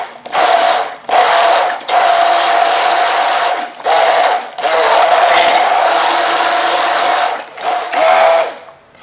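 Hand blender whirring while mixing homemade garlic alioli, a loud steady motor whine cut by short pauses as the blender is lifted out and pushed back in.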